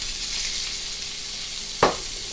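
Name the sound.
caramelized onions and garlic sizzling in a pan with potatoes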